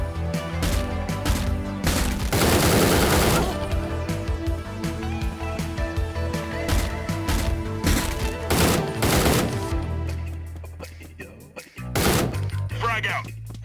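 Gunfire in the video game Door Kickers: Action Squad, with loud clustered bursts of shots and impacts coming in volleys, then a brief lull before more shots.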